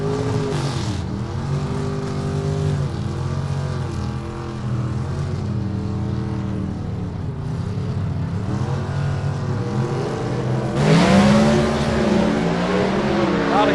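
B/Gas drag race cars with mechanically fuel-injected motors and One-Way Technology heads roar down the strip, a continuous loud engine drone with rising and falling revs that swells near the end.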